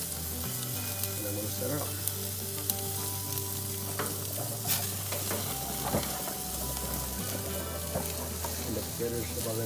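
A Wagyu bone-in rib eye steak sizzles on a grill at about medium rare, a constant close crackle with occasional sharper pops, while someone speaks briefly over it.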